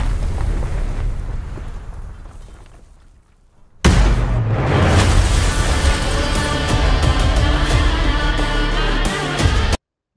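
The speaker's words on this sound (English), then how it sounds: "we see that he survives this explosion" A large explosion from the Black Adam movie trailer erupts suddenly after a quiet lull, a loud broadband blast that rolls into sustained rumbling and crashing debris with music-like tones before cutting off abruptly.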